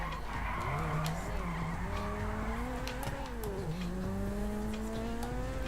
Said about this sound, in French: Et ça se tient bien au niveau des drifts.